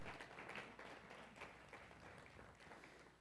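A church congregation applauding during a sermon, a dense, steady wash of many hands clapping, heard faintly and at some distance without clear speech.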